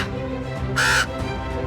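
A crow gives one clear, fairly loud caw over a steady background hum.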